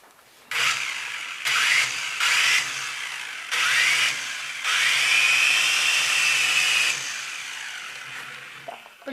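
A radio-controlled helicopter's electric motor whines in several close bursts, spinning up, holding and cutting off, then one longer run with a rising pitch.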